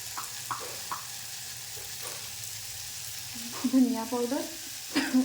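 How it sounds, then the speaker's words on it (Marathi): Chilli powder, turmeric and coriander powder sizzle steadily in hot oil in a pan for sprouted mung, a soft continuous frying hiss broken by a few brief voiced sounds and clinks. "आता पहिले थोडंसं तिखट टाकलंय, त्याच्यानंतर हळद, त्याच्यानंतर धनिया पावडर"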